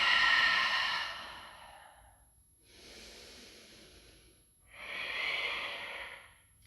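Three long, breathy exhalations during a yoga forward fold, close and airy, the first loudest, separated by short near-silent pauses, with no talking.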